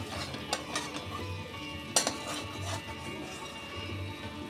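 Masala with whisked yogurt being stirred and sautéed in a pan, quiet scraping and clinks of a spoon against metal over a soft continuous sizzle.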